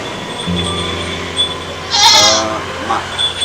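Etawa goats raised for meat bleat in a village pen, one loud nearby bleat standing out over a steady background hum, with a few fainter calls around it.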